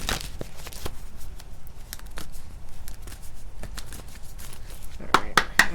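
Tarot cards being shuffled by hand during a reading, giving soft riffling and flicking bursts with brief pauses, close and fairly quiet, sharper snaps near the end.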